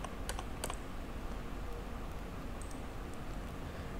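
Keys tapped on a computer keyboard while a CNC lathe program is entered, a few quick clicks near the start and sparse taps later over a steady faint background hiss.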